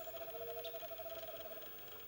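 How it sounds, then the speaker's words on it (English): A faint, steady whistled trill of a screech owl, held for over a second, sounding thin as if played back through a small speaker. "that's a screech owl calling"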